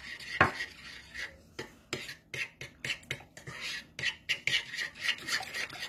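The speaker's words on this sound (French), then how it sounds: "Donc là, on vient le mélanger au chocolat." Oil being stirred into melted chocolate for brownie batter, giving repeated scraping and clinking strokes of a utensil against a bowl at an uneven rhythm, close and fairly clear, with no talking.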